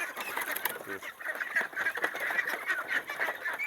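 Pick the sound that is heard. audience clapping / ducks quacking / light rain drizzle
ducks quacking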